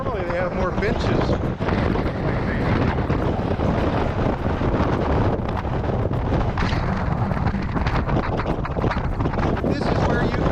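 Strong wind buffeting a microphone on the open deck of the cruise ship Jewel of the Seas, a constant loud roaring rumble with gusty surges, while a person talks through it.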